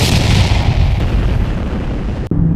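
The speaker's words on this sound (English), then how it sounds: "an explosion rocks the ship." A heavy shell explodes against a warship in naval battle, a loud sustained roar of blast and rumble filling the whole span before cutting off abruptly near the end.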